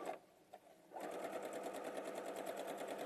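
Sewing machine stitching along a quarter-inch seam line, a soft rapid mechanical whir at close range that pauses briefly after a short start, then runs steadily.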